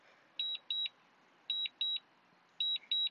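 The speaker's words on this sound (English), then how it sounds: "this does make a really annoying beep" A DJI Mini 2 drone sounds its return-to-home warning: three pairs of short, sharp, high electronic beeps, evenly spaced and clear over a quiet background.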